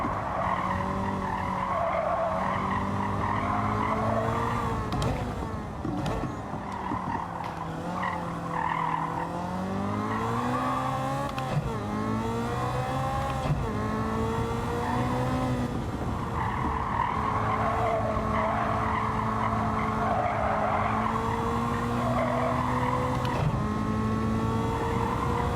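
A Ferrari race car in a racing video game, engine droning and shifting pitch steadily while tires squeal and skid through corners, loud and continuous throughout.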